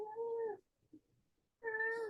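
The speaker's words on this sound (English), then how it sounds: "That's the cat." Two drawn-out cat meows separated by a short quiet pause, close and clear, with no talking.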